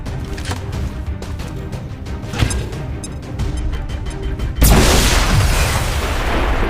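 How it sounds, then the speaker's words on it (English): Grenade explosion in the game XCOM 2: clicks and thuds lead into a sudden loud, close boom at about the two-thirds mark, followed by a broad sustained rumbling wash of debris and noise. "Grenade!"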